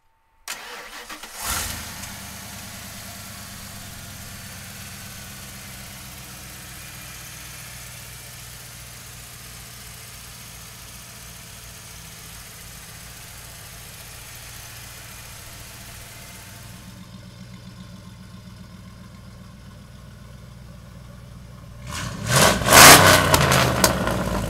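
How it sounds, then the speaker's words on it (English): A 1997 Ford F350 XLT pickup truck engine cranks and fires up, then settles into a steady, fairly loud idle for a long stretch before a sharp burst of revving near the end, with no talking. "We're gonna take it outside and fire it up right now."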